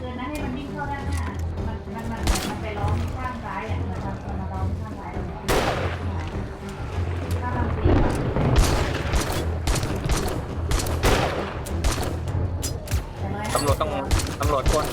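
Rapid bursts of gunfire and explosions in the video game 7 Days to Die crackle continuously, with people talking excitedly over the shooting throughout.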